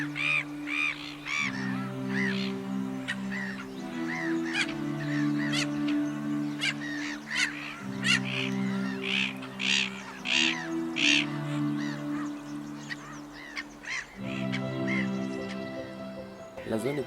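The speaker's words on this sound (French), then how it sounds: "ce calme est relatif quand on observe les colonies de mouettes rieuses" A colony of black-headed gulls calls constantly with harsh, overlapping squawks near and far, under steady music and someone talking.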